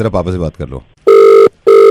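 A telephone rings twice with a loud, steady electronic trill while someone places a call to a boyfriend; someone speaks in Hindi just before the rings begin.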